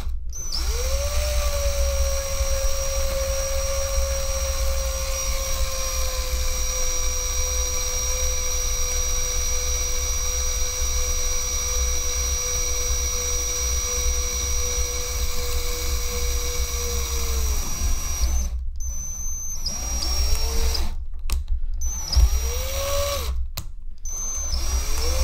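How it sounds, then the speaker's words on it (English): Power drill boring through a plastic Spengler Neutrona Wand, a steady high whine running continuously for about eighteen seconds, then several short bursts that spin down between pulls. "what I'm going to do is drill through the side, through the bottom pocket"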